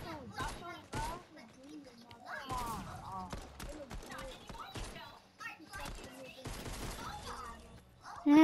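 Fortnite gunfire comes as sharp, scattered bursts of shots mixed with excited voices talking over the action.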